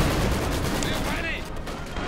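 Dense gunfire and battle noise in Company of Heroes 2 during an online Wehrmacht versus Soviets match, a loud continuous fusillade of rapid shots and blasts filling the whole stretch.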